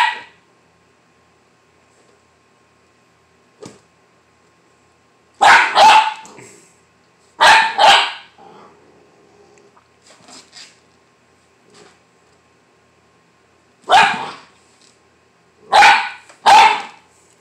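A husky puppy, about eight weeks old, lets out short bursts of loud barks in clusters separated by quiet pauses, with faint background noise between bursts.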